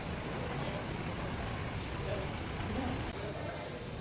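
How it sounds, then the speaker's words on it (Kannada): Two buses pull into Ramdurga bus stand together, a steady low engine rumble with a hiss of air brakes, fairly close. "ಒಂದೇ ಟೈಮಲ್ಲಿ 2 ಗಾಡಿ ಬಂತು ನೋಡ್ರಿ ಈಗ."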